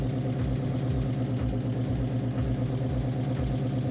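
A 500-horsepower station wagon's engine idles steadily after starting up from a long sit, a close, even rumbling pulse with a rhythmic lope and a light lifter tick, no voices over it.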